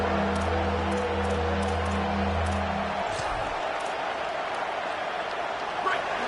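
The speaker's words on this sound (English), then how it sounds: "This crowd rising up, sensing that its defense needs some help." Stadium crowd noise in a Madden or NCAA football video game, a steady broad roar of fans that swells and holds loud throughout, with a low hum fading out partway through.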